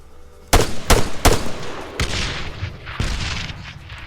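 Grenade blasts in the military shooter Arma 3, a rapid run of sharp booming explosions with rumbling tails, loud and close, trailing into a lingering roar of echoes and further thuds.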